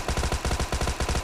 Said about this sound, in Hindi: तभी मेरे को इधर से बोट फायर आता है